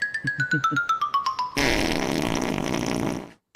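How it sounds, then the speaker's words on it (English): A fart sound effect: a quick run of squeaky pulses sliding downward in pitch, then a long, blustery, rasping blast that cuts off abruptly, loud and alone. "it's farting on me"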